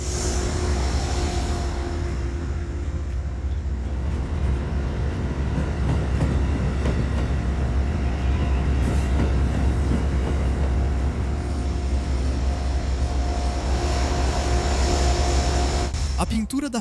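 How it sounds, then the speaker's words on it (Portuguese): Amtrak Lake Shore Limited passenger train led by three P-32 AC locomotives arrives, a loud continuous low rumble of engines and rolling cars with steady rail noise throughout, under faint talk. "Na frente há 3 locomotivas P-32, corrente alternada seguidas por vagão de bagagem, vagão-leito, restaurante e vagões de passageiros."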